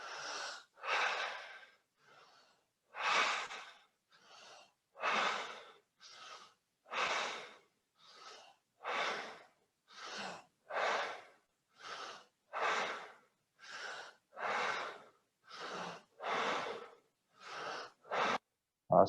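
Deep, steady breaths in and out during a guided breathing exercise, about fifteen full cycles of slow inhale and exhale in a regular rhythm, close and fairly quiet, with no talking.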